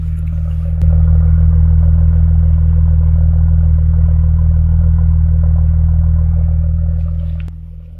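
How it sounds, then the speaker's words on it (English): Classic V6 car idling with a loud, steady, deep exhaust drone, close and continuous with a low rumbling burble, easing slightly toward the end. "God, the exhaust on this car sounds lovely."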